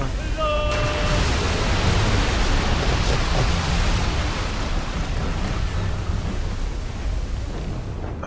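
A rogue wave surges through a storm at sea in Assassin's Creed 4 Black Flag, a steady roaring wash of wind and crashing water that stays loud and broad throughout.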